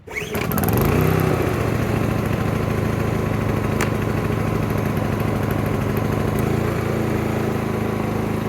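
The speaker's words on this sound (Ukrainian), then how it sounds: "Отже, двигун запустився достатньо скоро." A Zipper ZI-STE 2000 IV inverter generator engine sputters to life within the first second, then settles into a loud, steady running drone that continues without talk.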